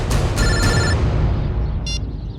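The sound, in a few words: telephone ringing, unknown number calling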